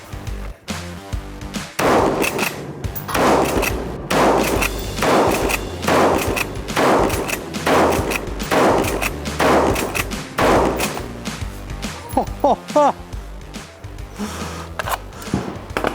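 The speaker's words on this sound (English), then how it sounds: "I just want to feel how it shoots." A Southern Cross Small Arms Taipan Light rifle fired out of the box without an optic, loud booming reports in a repeated series at an outdoor range, heavy echo and cycling filling the gaps.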